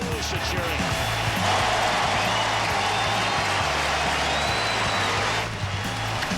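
A packed ballpark crowd roars continuously for Ken Griffey Jr.'s 600th career home run in June 2008, a loud, dense wall of cheering and applause that swells and holds, with a broadcaster's voice running underneath.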